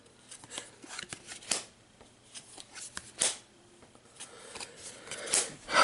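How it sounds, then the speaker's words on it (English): Marvel Champions game cards being drawn and handled on a table, giving a string of soft papery snaps, slides and flicks in uneven bursts, close and fairly quiet, with no talking. "And let me draw the 5 cards"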